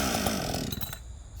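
A Husqvarna 562XP chainsaw with a 24-inch bar, running hot on fresh fuel at high idle, fires with a brief loud close engine burst that quickly cuts out.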